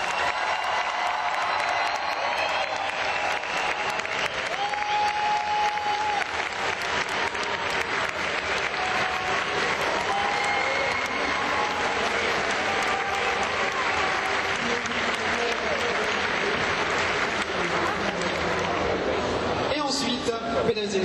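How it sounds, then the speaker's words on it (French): A convention audience at a guest question-and-answer panel gives a long, sustained round of dense applause for actor John Rhys-Davies, with scattered cheers and a voice speaking over the clapping. "faites un tonnerre d'applaudissements pour Monsieur John"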